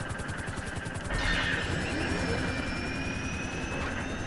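A helicopter in the Grand Theft Auto video game whirs with a steady rotor and engine drone that grows slightly louder partway through and holds without letup.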